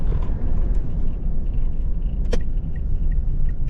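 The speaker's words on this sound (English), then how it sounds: "I'm going to do a small drive now" A car driving through a small town in Yarrawonga, heard as a steady, close engine and road rumble from inside, with one brief rattling clink partway through.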